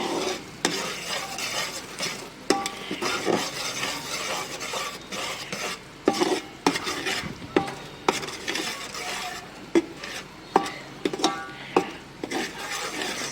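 Flaxseed laddu mixture being stirred through thick jaggery syrup, with a continuous sticky scraping broken by sharper utensil knocks that come more often toward the end.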